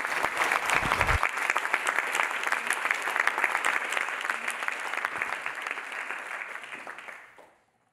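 A conference audience applauds after a lightning talk on beneficial AGI, sustained close clapping from many hands that holds steady for several seconds and then tapers off to silence.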